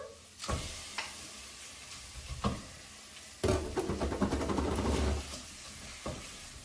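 Gambas shells sizzle in a hot pan, a quiet steady frying hiss broken by louder bursts as they are stirred and scraped around.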